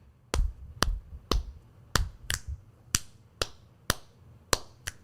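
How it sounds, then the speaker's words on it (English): Crisp finger snaps and claps keep a steady beat, about nine sharp, evenly spaced hits ringing out close and alone with no talk. "All right, so snaps and claps."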